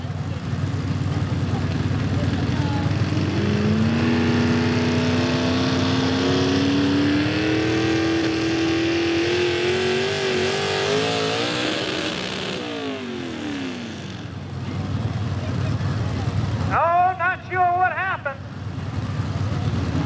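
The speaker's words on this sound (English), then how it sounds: "The engine revved way up on the tractor." Heavy tractor engine at a tractor pull, loud and near, its pitch climbing steadily as it revs way up under load, then a sharp sweep and a short burst of rising whine near the end, with crowd and announcer noise underneath.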